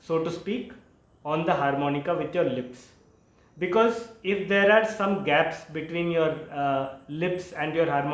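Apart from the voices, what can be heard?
No distinct noise like a dog, phone or traffic.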